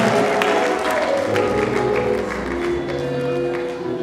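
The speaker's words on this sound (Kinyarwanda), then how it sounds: "Abasore nahaye Imana amashyi ikora dufite abasore." A church congregation at a choir anniversary service claps together in dense, continuous applause, with a voice over the clapping.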